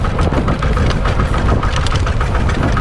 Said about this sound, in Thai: พี่จอดเร่งให้ดู นั่งชอบเสียงตอนเร่งว่ะ